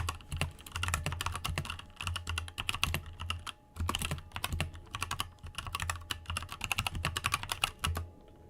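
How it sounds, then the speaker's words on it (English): Rapid, loud clattering of a computer keyboard being typed and mashed in dense bursts, with brief pauses between flurries of keystrokes. "I apologize for all that keyboard mashing."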